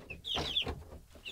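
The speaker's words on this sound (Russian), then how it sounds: "И вон они, цыплята." Chicks in a homemade brooder, giving a few high, thin peeps in short bursts, soft and close, with faint rustling and no talking.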